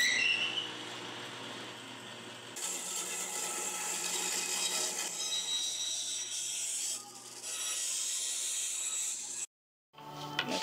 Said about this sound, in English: This is a bandsaw.